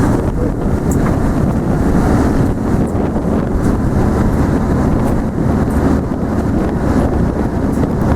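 Strong, steady wind in Austria buffeting the microphone, a loud continuous low roar with no pauses and no voices.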